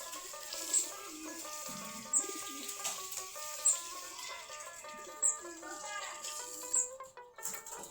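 Giribaz pigeons cooing near water, soft repeated coos rising at regular intervals of about a second and a half, close and clear over a quiet background with faint bird chirps.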